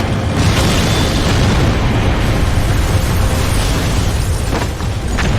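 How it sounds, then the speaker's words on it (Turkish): A loud, sustained explosion roar from the video game Max Payne 3, with dense rumbling that barely fades, filling the whole moment without any speech. "Patlıyor."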